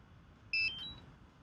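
A DJI FPV radio controller powering on gives a couple of short, high, clean electronic beeps in quick succession, clear against a quiet room.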